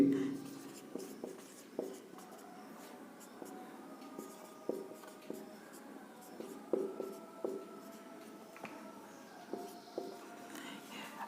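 A pen writes English alphabet letters by hand on paper, a quiet, close series of scratchy strokes and taps at an uneven pace, with faint whispery speech in the background.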